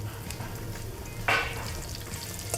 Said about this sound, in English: Got that nice sizzle.